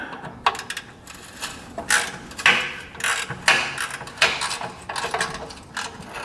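A ratchet wrench loosening exhaust clamps between side muffler and catalytic converter on a Volkswagen Golf clicks in short repeated bursts, close up, with brief pauses between strokes and no talking.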